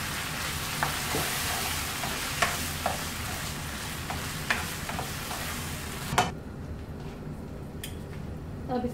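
Pasta is stirred in white sauce in a hot pan, with soft continuous sizzling broken by a series of scraping and clinking stirs up close, until the frying noise suddenly drops away near the end.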